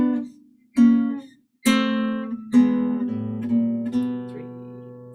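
Fingerpicked acoustic guitar playing a Chicago blues figure, with a few plucked chords and then steady picked notes over a walking bass line, clear and close with no talk.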